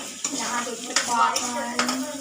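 Garlic and onion paste frying and being stirred in a pan for a Chhattisgarhi jimikand (elephant foot yam) dish, a steady close sizzle broken by several scraping stir strokes.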